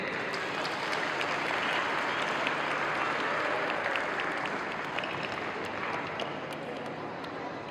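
A large crowd at a school Independence Day celebration, GD Goenka Public School in Agra, applauds continuously. The thick, steady roar of many hands holds at an even level throughout.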